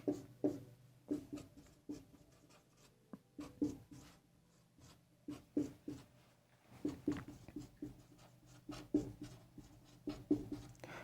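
Chalk or marker writing on a classroom board during a math lesson: quiet repeated tapping and scratching strokes in short bursts, with gaps between them and a faint steady hum behind.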